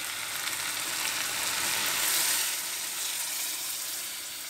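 Chicken keema cooking in the desi ghee water it was boiled in, a bright continuous sizzle and hiss that swells slightly in the middle and stays steady, with no talking.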